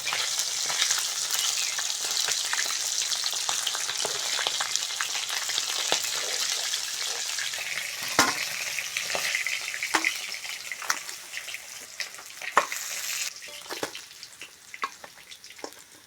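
Pieces of large silver carp fry in hot oil, a steady close sizzle and crackle running continuously with scattered pops and clicks that thin out toward the end.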